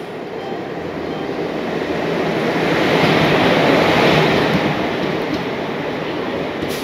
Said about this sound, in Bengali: আমাদের ট্রেন